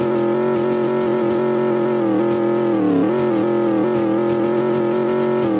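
A sports car engine in the Greenville driving game holds a steady buzzing drone, swelling briefly in a rev near the middle before settling back, close and loud with no talk.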